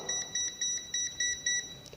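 A UNI-T UT210 clamp meter gives a quick, even series of short, high electronic beeps at close range, with no talk over them.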